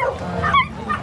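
Large dog at a pet market in Bocaue, Bulacan, Philippines, giving a couple of short, close yips and barks in quick succession.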